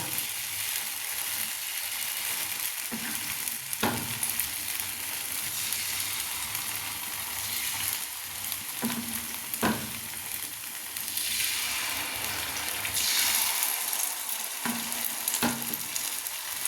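Jowar flour paddu batter sizzles steadily in the hot cups of a paddu pan, a close, continuous frying hiss with a few soft clicks of a spoon or pan, no voices.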